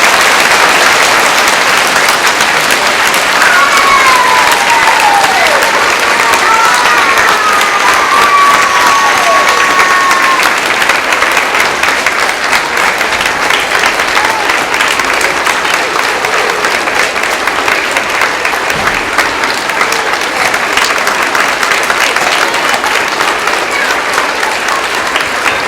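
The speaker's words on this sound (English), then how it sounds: "I need you to give these veterans a huge round of applause." A school assembly audience at Sonora Elementary gives veterans a long, loud, sustained round of applause at a Veterans Day gathering, with scattered cheers and children's shouts mixed into the clapping.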